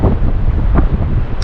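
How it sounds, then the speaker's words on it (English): Strong wind buffets the microphone on a North Wales surf beach, a loud continuous low roar with gusty swells that fully masks any surf behind it. "The problem is the wind."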